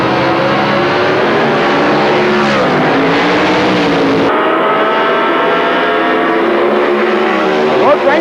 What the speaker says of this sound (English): He's almost ready to take on the start line, as is Rod Rainford